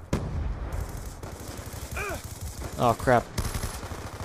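The LSAT light machine gun fires in the Black Ops 2 video game, with rapid bursts of automatic gunfire and other shots cracking throughout, plus a brief spoken exclamation.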